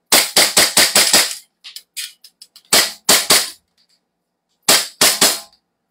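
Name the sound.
gas-powered airsoft pistol firing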